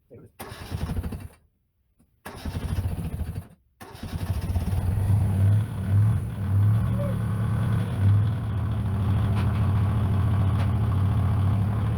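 A restored tractor engine cranks in a few short bursts, then catches and settles into a steady, loud, low idle-to-running rumble up close during a test drive, with a voice talking over it.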